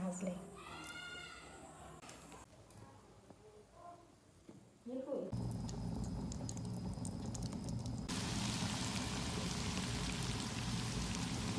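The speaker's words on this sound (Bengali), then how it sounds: "মুচমুচে করে ভেজে দিয়েছি" Samosas stuffed with egg and potato and coated in biscuit crumbs deep-fry in oil, a loud, dense, continuous hiss that rises abruptly midway after quieter stretches where a person talks.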